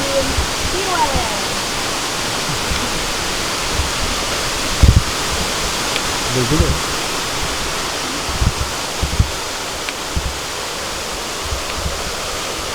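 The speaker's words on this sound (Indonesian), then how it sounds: "Selamat datang di air terjun Ciwalen" Ciwalen waterfall in Gunung Gede Pangrango National Park roars with a steady, dense rush of falling water throughout, and a voice speaks briefly over it.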